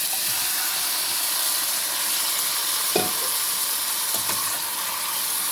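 Pork spare ribs sautéing for kaldereta, a loud steady sizzle and hiss filling the whole stretch, with one brief knock of a utensil in the pan.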